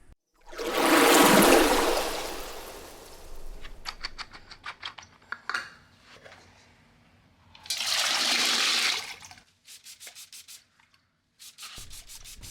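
Water and 80 grit silicon carbide churn inside a rock tumbler barrel, giving loud gritty washing bursts alternating with quieter rattling patters and short ticking runs.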